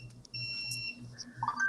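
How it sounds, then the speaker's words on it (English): A handheld diamond tester beeps in high electronic tones while checking stones at a jewelry auction, sounding repeatedly and faintly over a soft hum. "Sorry about the beeping. I'm trying to test this to make sure these are diamonds."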